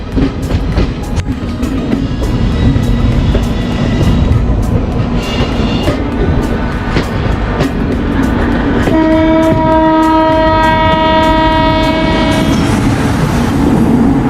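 Mumbai–Firozpur Punjab Mail train running on rails, a loud steady rumble and clatter close by, with a long sustained horn blast sounding partway through.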